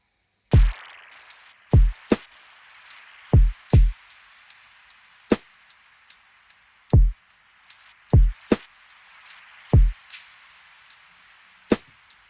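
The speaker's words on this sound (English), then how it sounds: "So the full drum loops is like this." A drum loop built with Logic Pro's stock Drum Synth, finished with reverb, gives sparse, punchy electronic hits with sharp attacks and short tails, spaced unevenly across a quiet background with no voices.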